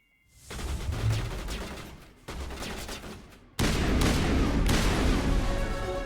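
Sustained automatic weapon fire in the Mass Effect video game, Xbox Series X, loud dense bursts with a brief pause, then an even louder continuous barrage with heavy impacts.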